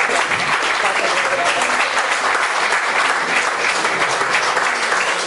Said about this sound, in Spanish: Aplaudimos a Gabriel.